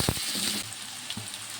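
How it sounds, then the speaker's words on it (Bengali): Potatoes and browned onions frying in a pan, a steady close sizzle with soft stirring scrapes and a couple of brief clatters. "কেটে ধুয়ে রাখা আলু দিয়ে দেবো। দিয়ে দেবো লবণ। আলুটা ভালো করে ভেজে নেব।"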